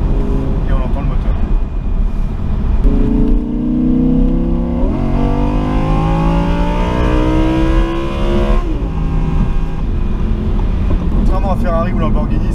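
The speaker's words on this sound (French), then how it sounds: "Et on entend le moteur." Audi R8 V10 Spyder, 540 hp, driving with the roof open in winter: the engine hums steadily, then rises in pitch through a long acceleration before settling back. Wind rush sits underneath and people talk briefly at the start.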